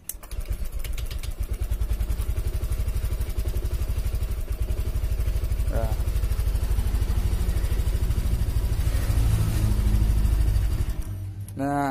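An automatic fuel-injected scooter with a broken CVT pulley, neglected and never serviced, idles with a steady close putter and rattly clatter, then revs briefly near the end, while someone talks over it now and then.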